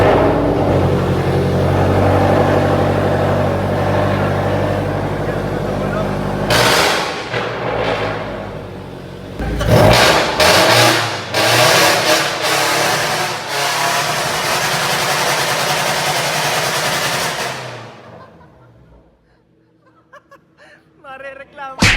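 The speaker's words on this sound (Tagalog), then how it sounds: "grabe naman talagang tumunog aring Toyota 86 ni Boss Jerome" A modified Toyota 86 with a wide body kit and air suspension revs hard, with a low steady idle giving way to loud, sharp bursts of engine revving and pops that then fade to quiet.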